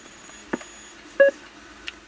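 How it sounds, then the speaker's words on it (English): A ZX Spectrum +2 home computer gives a short, clear electronic beep as the return key is pressed, one brief tone standing alone with faint keyboard clicks around it. "We get a confirmation beep when we hit return there."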